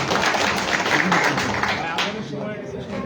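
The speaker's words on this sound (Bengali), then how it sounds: "জনাব মোহাম্মদ রমজান আলী ভাইয়ের উদ্দেশ্যে সবাই করতালি দেই" Audience applause at a Bangladeshi government employees' welfare association discussion meeting, a dense burst of clapping that fades slightly toward the end, with voices talking over it.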